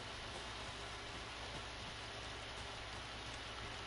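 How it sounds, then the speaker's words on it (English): Steady rain falls in a nature area in the video game Alan Wake 2, an even, faint wash of hiss with no breaks and no voices. "Should have brought an umbrella. I like the rain."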